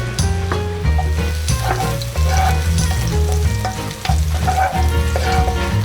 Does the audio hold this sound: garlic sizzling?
yes